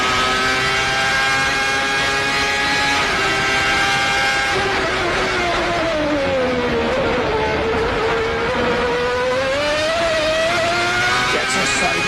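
A Formula One race car engine screams at high revs, pitch wavering and dipping as the wheels spin and the car slides sideways, loud and continuous with a commentator talking over it.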